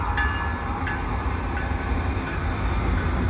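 A CN double-stack intermodal freight train rolls past at Dorval in the evening, a continuous low rumble and rolling rail noise with faint squeals, steady and fairly close, no voices.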